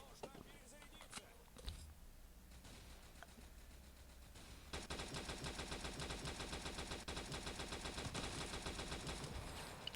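Gunfire in the World War Heroes video game: scattered shots at first, then a sustained, rapid machine-gun burst that runs loud and rhythmic through the second half.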